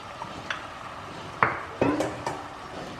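A spoon scrapes and knocks against a pot while mutton is stirred into masala for mutton kulambu, giving a few sparse clinks and scrapes with quiet gaps between them.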